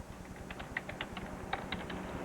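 Quick keystrokes on a computer keyboard, a fast irregular patter of light clicks, close but faint over a steady background hiss.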